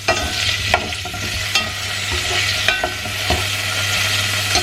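Tomatoes and sliced garlic fry gently in olive oil, giving a soft continuous sizzle broken by several quick clatters of stirring, close up with no talking.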